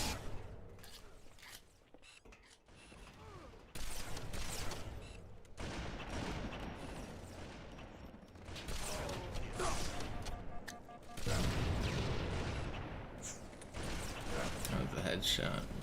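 Rapid gunfire in the video game Halo 2, bursts of shots with mechanical clatter, fairly quiet and mixed with a talking voice.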